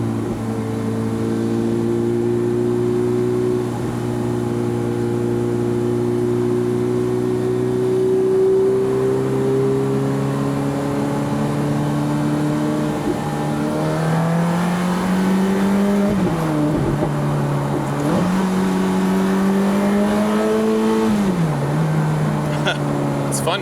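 A 2005 Ferrari F430 Spider's engine drones steadily on the road, its pitch climbing and dipping through gear changes and revving surges with faint rumble underneath, loud and continuous.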